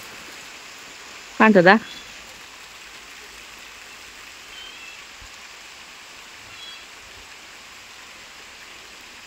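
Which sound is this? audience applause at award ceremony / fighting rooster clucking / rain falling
rain falling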